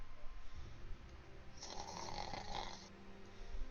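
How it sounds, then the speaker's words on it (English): Faint snoring drones through a steady background hiss, a soft rasping breath swelling in the middle of the stretch without any voices. "You just hear a faint snoring"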